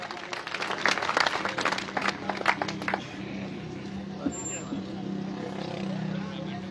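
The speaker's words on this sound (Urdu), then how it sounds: "تالیوں سے استقبال کیجیے" An audience at a gathering claps to welcome a speaker, a burst of applause lasting about three seconds, followed by a low background murmur of voices.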